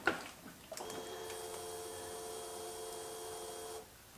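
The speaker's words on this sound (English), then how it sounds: "pump makes the same noise." Fuel pump from a 2016 Yamaha YZ250FX tank, fitted atop a bike, switches on with a brief click and then whirs in a steady high-pitched electric whine for about three seconds before cutting off, fairly faint and close, no talk.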